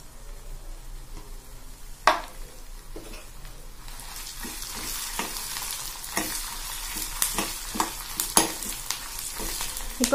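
Dried red chillies and curry leaves crackle and sizzle steadily in hot oil in a pan, with stirring scrapes and sharp pops scattered throughout, close and moderately loud, no talking.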